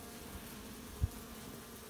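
Honey bees hum inside an opened hive box on a cold, snowy day in early May, a faint, even drone with one soft thump partway through.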